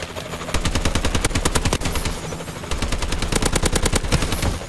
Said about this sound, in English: Still getting shot at from down there